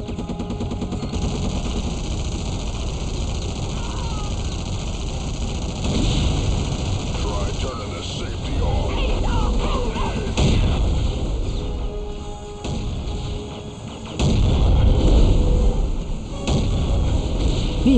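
Vehicle explosions in Unreal Tournament 2004 on PC: booming, rumbling blasts and crackling bursts swell and fade over steady loud game noise, with an announcer voice between them.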